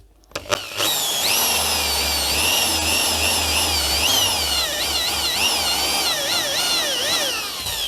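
Vorhut impact drill with a Hauer cobalt bit boring into rebar without a center punch, starting after a couple of clicks then a loud, sustained high whine with wavering pitch as the bit bites into the steel.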